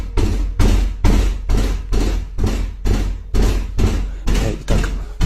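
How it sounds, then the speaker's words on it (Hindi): Heavy fists pound on a door over and over, about ten loud, close thuds spaced a little more than half a second apart, each one booming and echoing in an otherwise quiet room. "जोर जोर से अचानक ही दरवाजे के पीटने की आवाज आने लगी"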